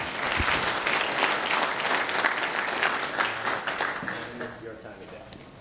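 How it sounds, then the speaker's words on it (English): An audience at a Go lightning talk session at a tech conference gives sustained applause, dense clapping from a large room that fades toward the end as a voice begins speaking. "Round of applause for him too, please."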